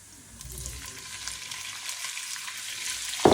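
Chicken pieces sizzle and crackle steadily in a hot pan with garlic, a dense broadband frying hiss building slightly louder, with faint stirring scrapes and a sharp clank at the end, no voices.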